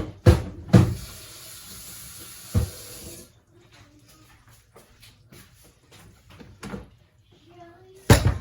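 Cookware set down into a kitchen sink after cooking in a multicooker, with sharp clanks at the start and end and a stretch of running tap water between, close by.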